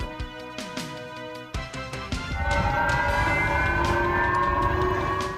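A loud, sustained air raid siren in Hokkaido, Japan, warning of a North Korean ballistic missile launch, wails steadily after a few sharp clanks, rising and holding its tone for several seconds.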